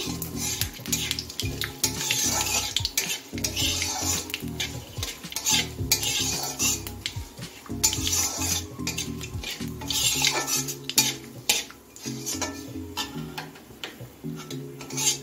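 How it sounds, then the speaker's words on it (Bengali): Two dry red chillies, five-spice seeds and a bay leaf fry in hot oil for a chechki dish, with steady sizzling and repeated clattering stirs of a utensil against the pan throughout. "আমি এখন ফোড়নে দিয়েছি 2টো শুকনো লঙ্কা, 5 ফোড়ন আর একটা তেজপাতা, ফোড়নটা একটু ভেজে নিচ্ছি"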